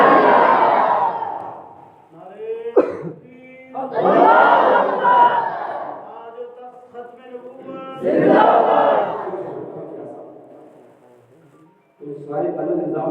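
A crowd at an Islamic religious gathering answers in loud collective shouts, several bursts of chanted slogans rising and fading in turn, each followed by a single voice leading.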